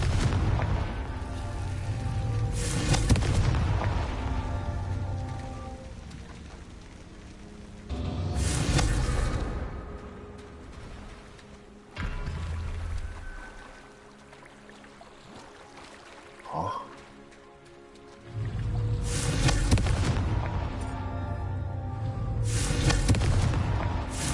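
Confringo blasting spells go off in a Harry Potter video game. Several loud, deep booming explosions come in separate bursts with quieter gaps between them over nearly half a minute.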